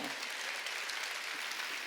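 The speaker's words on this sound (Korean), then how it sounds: "박수로 하나님께 영광 돌려" Church congregation at a Wednesday worship service applauding, a dense, even wash of clapping from many hands that holds at a constant moderate level throughout.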